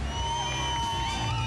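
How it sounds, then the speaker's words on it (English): Loud, dense crowd cheering and whooping at an unplugged concert, a sustained roar of excited voices filling the whole short stretch. "The crowd goes wild."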